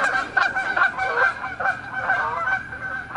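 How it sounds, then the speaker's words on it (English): Geese honking in a loud, busy chorus of repeated overlapping calls close by, with no talking over them. "these geese are really starting to piss me off"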